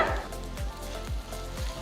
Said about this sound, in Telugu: ఫ్లేమ్ లోలోనే పెట్టి మనం తాలింపు వేసుకోవాలి